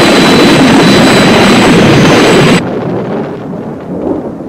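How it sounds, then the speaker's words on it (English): Thunderstorm roar, a loud sustained rumble with hissing rain-like noise that cuts off abruptly partway, leaving a quieter low rumble of wind and distant storm. "The storm seems to be getting worse."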